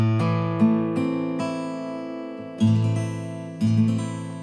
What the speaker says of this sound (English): I'm just going to strum it from the fifth string down.